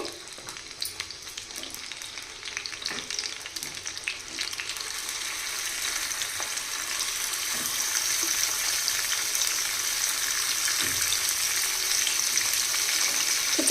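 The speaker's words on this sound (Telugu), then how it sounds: "ఆయిల్ వేడైన తర్వాత చేపలు వేసుకోవాలి" Dried fish frying in hot oil in a small pan, a steady close sizzle that grows louder and denser as the pieces cook.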